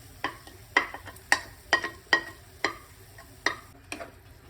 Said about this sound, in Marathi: आता ह्यात आपण ॲड करू ग्राइंड करून जे आपण ठेवलं होतं पालकचा पेस्ट.